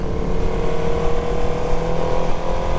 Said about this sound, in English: I don't know if the sound of this exhaust will travel through, but man, this bike sounds incredible.